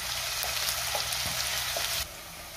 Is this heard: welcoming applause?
no